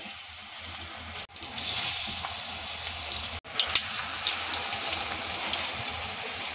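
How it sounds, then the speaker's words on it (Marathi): Mutton kheema vada balls coated in batter deep-fry in hot oil, a steady close bubbling hiss broken by two brief cuts, with no talking. "आता आपण वडे तळून घेऊया"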